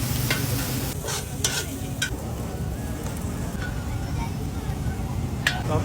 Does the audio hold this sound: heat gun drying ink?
no